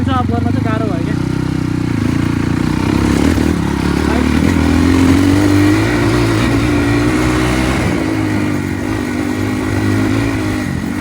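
A motorcycle ridden on a ride toward Bandipur, with a steady loud engine drone, shifting pitch and road rumble running throughout and a voice talking over it.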